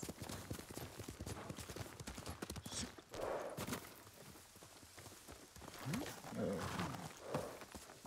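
Horse hooves clip-clop in the video game Ghost of Tsushima, a quick irregular patter under steady gameplay sound, with a person talking over parts of it.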